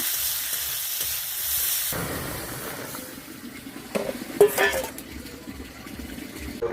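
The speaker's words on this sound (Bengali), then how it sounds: "এখন দিয়ে দেবো পেঁয়াজ, ক্যাপসিকাম আর টমেটো। এটা এখন ভালো করে মিক্স করে ভেজে" Garlic, onion, capsicum and tomato fry in a pan, a bright sizzle that drops as ingredients go in, followed by stirring clatter and softer frying with a few utensil knocks.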